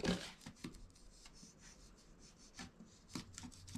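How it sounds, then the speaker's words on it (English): A bone folder rubs along the creased edges of a folded paper box in short, soft scraping strokes, faint and close, with small taps between the passes. "I'll go in with my bone folder to help get that stuck"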